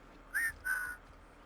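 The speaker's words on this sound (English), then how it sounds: "The slicer dicer whistles" A character in the video game Wasteland 3 whistles two short, soft rising notes, one after the other, over a quiet game background with no talk.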